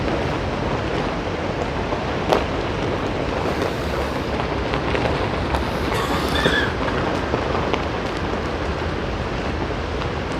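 A Union Pacific train in the North Platte, Nebraska rail yard gives off a continuous broad rumble and hiss of rolling wagons, steady throughout with no voices.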